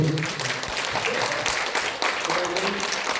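Audience applause at a founding general assembly of an international solidarity organization, a steady, dense burst of clapping from a room of attendees, with voices faintly audible underneath.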